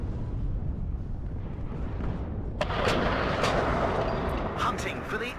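Artillery fire in the real-time strategy game WARNO. Deep booming rumble builds under a steady din, and several sharp impacts crack out in the second half, fairly close and loud.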